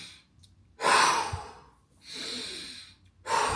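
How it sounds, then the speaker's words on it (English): A person taking a deep breath in during a calming breathing practice, several soft, airy inhalations and exhalations close to the microphone, separated by short pauses, quiet and without speech. "So deep breath in."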